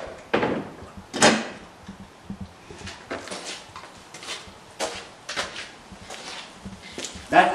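A door in an abandoned warehouse creaks and shifts in scattered short knocks and scrapes, faint to moderate and fairly close, with quiet speech in between.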